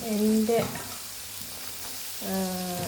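Carrot, capsicum and onion dropped into rice frying in hot oil, a steady sizzle with stirring, quieter between bursts, while someone talks over it.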